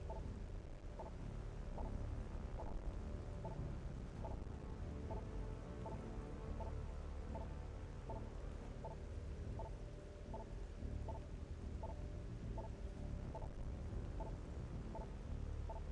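Steady rain falling in the video game Metroid Prime 3 on the Wii, a continuous hiss of drops on surfaces with a faint regular ticking pattern repeating underneath, quiet and even from start to finish.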